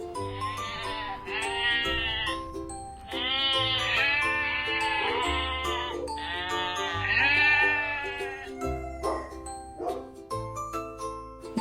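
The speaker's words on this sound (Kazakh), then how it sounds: "қой" Sheep bleating in a series of loud, wavering calls, several overlapping cries close by, with bell-like tones and a low drone running underneath.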